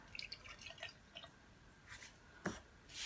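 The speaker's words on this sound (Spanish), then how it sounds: "Añadimos la ginebra." Gin poured into a gin and tonic glass, heard as a few close, quiet drips and splashes of liquid with a short trickle near the end.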